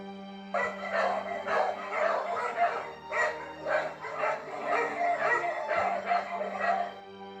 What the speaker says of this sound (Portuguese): os cachorros começaram a rosnar e latiam de forma constante